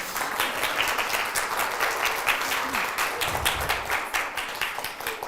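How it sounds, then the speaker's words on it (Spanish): An audience at a medical talk on pediatric endocrinology applauds a doctor, crisp overlapping claps that keep a steady rhythm, loud and close, easing slightly near the end with some murmuring voices. "Yo creo que merece un aplauso."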